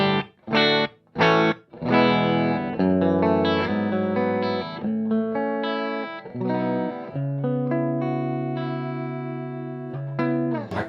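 Dry electric guitar through a Seymour Duncan Powerstage 170 amp with reverb off, a few short chopped chords followed by ringing strummed chords and sustained notes, close and clean.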